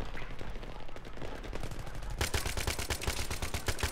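UMP submachine gun fired in short bursts in a video game, with quick clusters of sharp shots that grow denser and louder partway through, set against steady game background noise.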